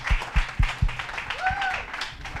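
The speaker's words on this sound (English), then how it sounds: "Let's give him a round of applause." Brief audience applause at a commercial real estate talk, a few loud claps at first thinning into scattered clapping, with a voice speaking over it.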